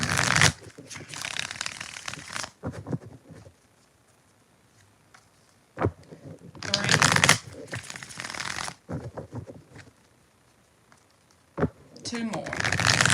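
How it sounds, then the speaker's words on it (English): Tarot cards are shuffled up close in several brisk riffling bursts with pauses between them, the papery patter loud against a quiet room. "Tiffany Stewart, give us 5 shuffles."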